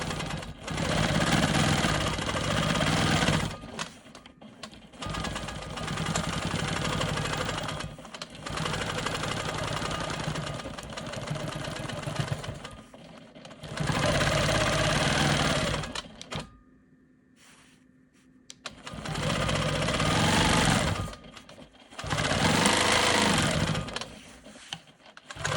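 A sewing machine quilts a star cross block, stitching in the ditch in long, steady, close runs of rapid mechanical whirring broken by short pauses, with one longer quiet stretch partway through and no talking.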